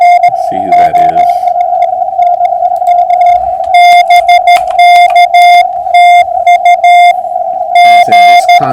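A ham radio transceiver tuned to a POTA contact receives a strong, loud signal from a Wisconsin station, with a steady tone carrying bursts of keyed beeps and a brief garbled voice over radio hiss.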